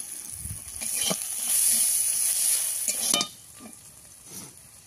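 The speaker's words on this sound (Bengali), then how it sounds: "পেঁয়াজটা ভাজা হয়ে গেছে, এবার ডালটা দিয়ে দেবো।" Onions frying in a pan with a little salt while cooking dal give a close, hissing sizzle broken by several scraping stirs, then the sizzle fades to a softer crackle.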